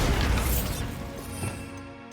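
The Bombarda blasting spell in Hogwarts Legacy bursts in a loud, rumbling crash at the start, then trails off into a fading, debris-like decay.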